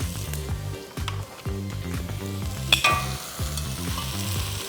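Lamb shanks frying with spices for a Bihari Champaran-style mutton curry, giving a loud close sizzle with rhythmic scraping stirs about once a second and a sharp metallic clank midway.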